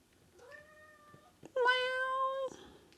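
A cat meows twice, first a soft drawn-out call and then a louder, longer meow close by in a quiet room.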